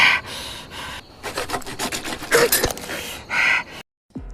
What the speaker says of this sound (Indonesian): Dwight menggunakan gergaji untuk memotong batang anak panah yang menancap di sukunya